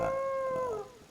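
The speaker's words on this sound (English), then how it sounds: "We're going to ignore the dogs." A single canine howl from an Elden Ring dog enemy in the Limgrave Tunnels, clear and sustained before dropping off, with no talk over it.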